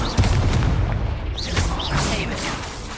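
Incendio fire spell cast in the video game Hogwarts Legacy, heard as a series of booming, bursting impacts over a dense, continuous bed of game sound.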